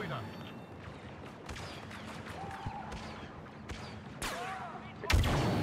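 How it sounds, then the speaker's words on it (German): Scattered gunshots and blaster fire from the video game Star Wars Battlefront 2 on Kamino crack at moderate distance amid steady rain-like ambience, with a louder burst near the end; players talk over the battle. "Ey, die machen einen Schuss."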